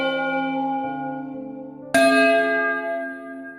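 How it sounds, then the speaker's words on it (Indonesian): A school bell rings loudly to mark break time, its sustained metallic tone sounding alone, then struck again partway through with a bright clang that slowly decays. "Suara bel pertanda waktu istirahat telah tiba."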